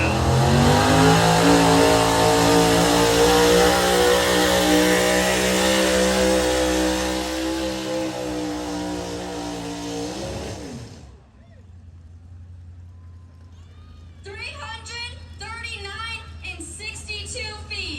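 An International super stock pulling truck roars at full throttle down the track, a loud sustained engine howl that drops off abruptly, followed by distant crowd noise and an announcer talking.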